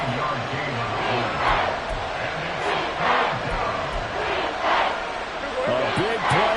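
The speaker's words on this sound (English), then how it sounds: "A big play here as the crowd noise rises" Stadium crowd at a Cowboys football game, a broad roar that swells in waves under a commentator's voice.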